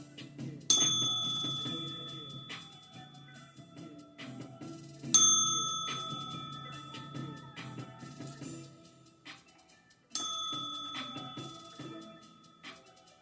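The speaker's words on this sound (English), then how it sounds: "I'll be ringing that sound bell in 3, 2, 1." A bell rings three times, each bright strike decaying slowly into a long shimmering tone, alone in a quiet room.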